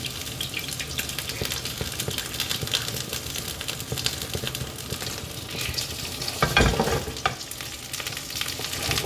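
Duck breast (magret) fries in its own rendered fat with a dense, loud, continuous crackling sizzle, close up, plus a brief burst of spattering and a clatter near the end, with no one speaking.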